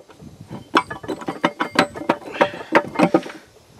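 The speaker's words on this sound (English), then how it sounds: "The main shaft will now slide forward out of the transmission." A transmission main shaft slides forward out of the case of a B414 series transmission. It gives a steady run of close metallic clicks and ratcheting clanks with no talk.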